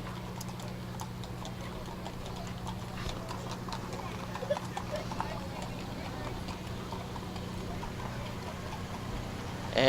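Decorated parade horses and ponies in ribbons, stars and red, white and blue tie-dye clip-clop along a Memorial Day parade route in Ironton, Lawrence County, with steady hoof beats under crowd noise and announcer talk.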